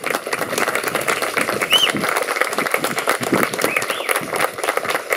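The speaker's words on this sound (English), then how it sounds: "And let's give Kenneth another round of applause." Applause from an audience honoring Kenneth Landon at a civic water lily festival proclamation in San Angelo, steady dense clapping with crowd murmur and a few bird chirps, lasting the whole stretch.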